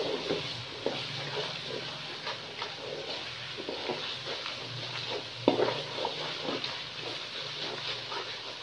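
Tomato masala seasoned with salt and black pepper fries in a pan for daal chicken, with a steady low sizzle and repeated soft scraping stir strokes, one sharper knock near the middle, no talking.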